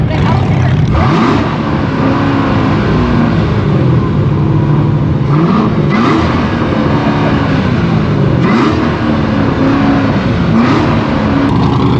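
A Corvette engine revs repeatedly at a loud car show in Alberta, with throaty rising and falling pulls close by over steady crowd noise and talk.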